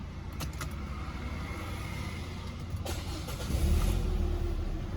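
A Peugeot 407 series 4 sedan, under repair for a timing belt and water pump replacement, has its engine started up, a deeper low rumble swelling in near the end over steady idle-like running, with no talking.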